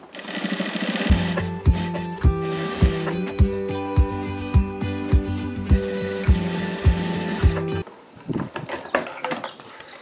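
Sewing machine stitching seams on a small multi-compartment fabric bag, running in a steady loud whir with short rhythmic bursts and brief pauses, then stopping near the end, with no talk over it.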